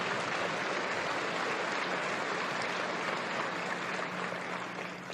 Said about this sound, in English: Give them a lot of applause, because they don't get much else for it.